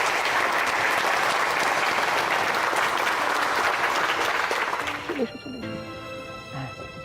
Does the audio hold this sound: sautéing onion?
no